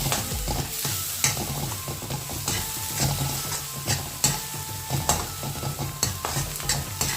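Onion with turmeric and dried coriander sautéing in a pan, a loud, steady sizzle punctuated by repeated scraping strokes of a stirring spoon.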